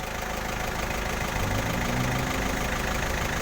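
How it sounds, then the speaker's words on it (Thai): A Deka 195 tractor engine idles close by with a steady, low, chugging rumble that stays at an even level throughout. "นี่ก็เป็นรถไถเท่าแกหรือเปล่า"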